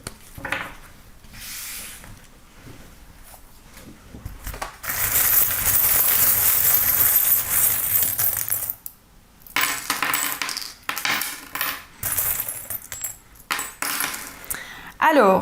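Small metal charms are cast for a divination reading, with bursts of clinking, jingling and rattling on a surface, separated by brief pauses; they are loud and close.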